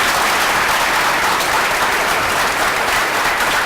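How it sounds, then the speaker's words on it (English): Dense, sustained applause from an evening speaker-series audience for a guest speaker, a continuous loud wash of many hands clapping with no talking over it. "If everybody could just give John a huge round of applause."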